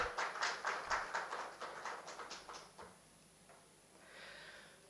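Applause from an audience greeting an author and her interviewer at a literary event in Raipur: a run of sharp claps in the first three seconds that fades away into quiet room tone.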